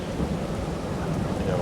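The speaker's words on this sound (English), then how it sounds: "But of course, it's raining right now" Steady rain with rolling thunder rumbling low in the Farming Simulator 22 game, a dense continuous wash of rainfall without breaks, loud and close throughout.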